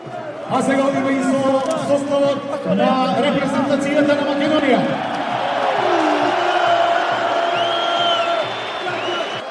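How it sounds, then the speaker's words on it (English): A Macedonian football crowd roars and cheers at a chance in a stadium, a broad swelling din with whoops and whistles, heard beneath a commentator's voice. "the Macedonian crowd have had their first real chance to get going"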